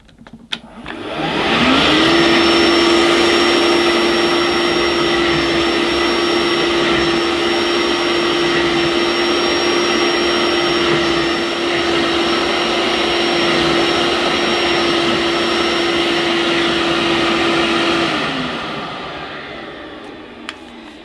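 A Vax Onepwr SpotlessGo cordless spot washer switching on and running, a loud steady motor whine with a high tone that holds for about fifteen seconds, then winds down as it is turned off.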